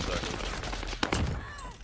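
Rapid gunfire rattles in bursts during a Warzone match on Fortune's Keep, fairly quiet and brief, mixed with faint voices.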